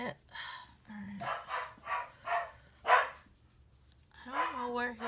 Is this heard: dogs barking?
yes